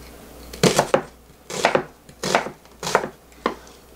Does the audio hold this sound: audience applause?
no